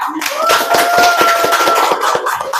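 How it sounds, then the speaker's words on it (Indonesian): Classroom applause for a group 4 representative: a burst of many hands clapping in dense, steady rhythm for nearly three seconds, close and loud, with a faint voice briefly underneath. "kita kasih aplaus dulu untuk perwakilan kelompok 4"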